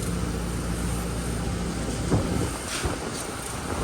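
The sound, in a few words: strong wind blowing behind a building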